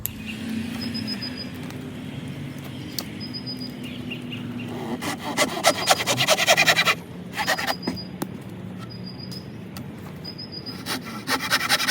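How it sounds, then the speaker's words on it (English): A hand saw cutting through a wet pine spindle outdoors, a rough rasping stroke rhythm that builds to a louder burst midway, with faint birdsong in the background. "come down about 8 inches and cut it off again"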